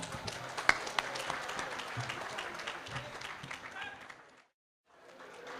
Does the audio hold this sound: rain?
no